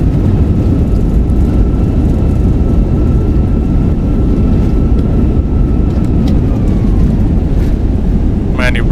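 Reverse thrust on a Fenix A320 in the MSFS 2024 flight simulator after landing: a loud, constant roar of jet engines with a low rumble and a faint whine, steady throughout and filling the whole stretch.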